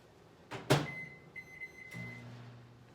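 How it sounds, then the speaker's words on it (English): A microwave oven heating stuffed peppers in a steamer: a door clunk, then beeps from the control panel, followed by a low steady hum as it starts running, close and fairly quiet. "We're now going to take the steamer and place it in the microwave for approximately 5 minutes"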